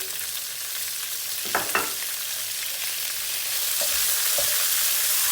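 Green onion frying in hot oil for a chicken rice pilaf, a steady close sizzle that swells slightly louder toward the end, with a few brief stirring clicks and scrapes partway through.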